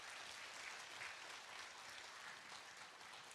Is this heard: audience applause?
yes